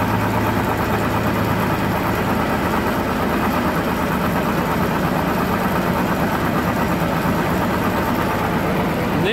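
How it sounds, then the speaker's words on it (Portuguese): Mechanical noise from the left rear wheel of a Mitsubishi Triton 3.2 4x4 on a workshop lift, a constant dense droning hum with a steady vibration and no pauses. "Olha o barulho aqui da roda. Da roda traseira"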